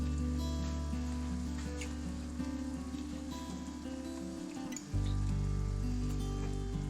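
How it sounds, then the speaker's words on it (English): A pot of water for a hasenpfeffer rabbit stew boils rapidly on a stove, giving a steady bubbling hiss with a low hum underneath and no talk. "It's boiling very rapidly."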